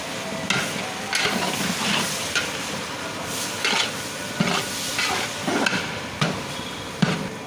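Tomato and potato pieces stirred in hot oil for potato papaya sambar, a steady sizzle and hiss broken by repeated scraping stir strokes at a fairly regular pace, close and clear with no speech.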